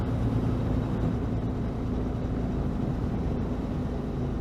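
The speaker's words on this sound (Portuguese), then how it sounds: "estou aqui a dar uma voltinha de moto" A Suzuki V-Strom 650 motorcycle being ridden, its engine a steady, close low drone with wind rush that holds evenly throughout, with no talk.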